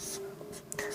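Writing on a board during a Hindi-language class 10 maths lesson on heights and distances gives a few quick, faint scratchy strokes within a second, close by.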